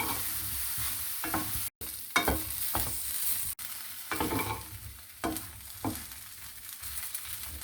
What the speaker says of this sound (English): first fry the small pieces of aubergines or eggplant in hot oil. Fry until soft.